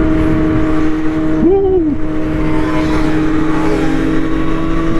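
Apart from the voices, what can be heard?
sport motorcycles accelerating on a Dallas freeway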